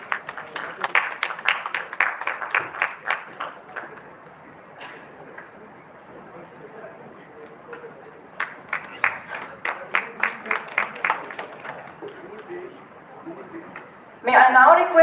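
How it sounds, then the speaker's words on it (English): An audience at a dental college felicitation ceremony claps in two bursts separated by a quieter stretch, moderately loud, with a speaking voice between them. "A huge round of applause, please."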